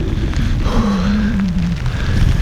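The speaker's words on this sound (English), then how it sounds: "even if it is very overcast, and it's still raining" Steady rain on an overcast day while camping on the Cumbria Way, a dense constant hiss with a low rumble running underneath.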